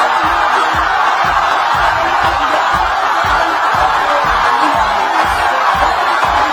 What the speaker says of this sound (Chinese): 我想现场观众一定是被伊朗男乒百折不挠的精神给感动了，才会爆发出如此震撼人心的欢呼